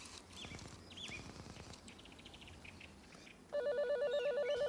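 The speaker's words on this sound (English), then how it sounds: "And that's the sound, which means go back to square one and start dialing again." A 1970s car phone system sounds its error tone after a mis-dialed number: scattered faint chirps and clicks give way to a loud, steady warbling electronic tone that repeats in rapid even pulses until the end.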